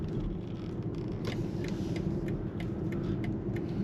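A BMW 3 Series Touring 330e plug-in hybrid on the road with its petrol engine running in sport mode, a continuous low rumble heard from the cabin with faint light ticks and clicks scattered over it.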